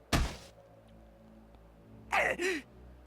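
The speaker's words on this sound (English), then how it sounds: "Circa screamed as she slammed against the door." In the game Chaos;Child, a body slams against a door with one heavy low thud at the start. A strained breathy vocal gasp or sigh comes a couple of seconds later, all close and otherwise quiet.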